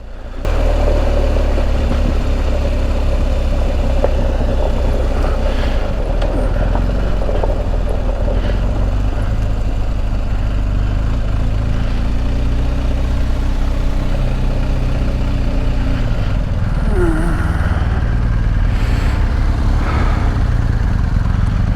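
Adventure motorcycle descending Spanish mountain roads, its engine a steady loud drone with a low rumble and wind rush throughout, with slight shifts in pitch and no talk.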